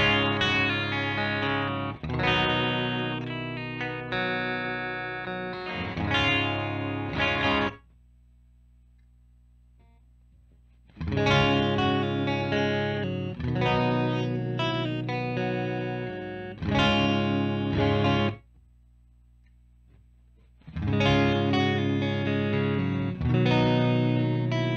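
Chapman ML1 Traditional electric guitar played through a Torpedo Live with a blonde vintage-style Fender cab, strummed chords ringing loud and full with effects, in three bursts separated by brief quiet gaps.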